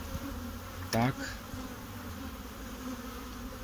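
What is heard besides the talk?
honey bees buzzing while shaken off a hive frame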